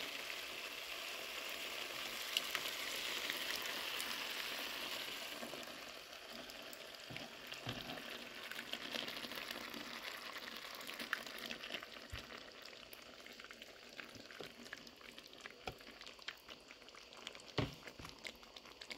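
Hot gravy with beef bones, brown onion and canned diced tomatoes with jalapeños simmers in a skillet, a steady soft sizzle and bubbling with occasional pops, faint and continuous with no talking.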